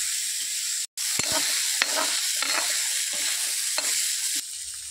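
Onion and garlic paste with chili frying alongside taro stems in a pan, a continuous loud sizzle broken by a brief silence and punctuated by sharp stirring scrapes and knocks.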